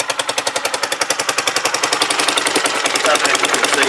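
A Huoniao HN125 motorcycle engine with a head repaired by JB weld after a bolt pulled out, running with a rapid, loud, regular ticking-puff of an exhaust leak at the head, the pulses blurring into a continuous clatter.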